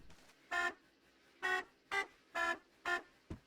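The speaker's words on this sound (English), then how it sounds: "a foghorn." A foghorn in the space game Astroneer blasts five times in a steady rhythm, each honk about a third of a second long, with a short clipped sixth toot at the end.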